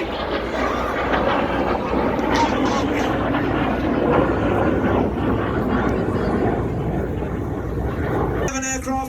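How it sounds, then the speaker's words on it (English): Red Arrows RAF jets at a 2019 New York airshow roar loudly and steadily overhead, a broad sustained jet rush filling the clip, with a commentator talking over it until the noise cuts off near the end. "Aircraft pulling to the vertical."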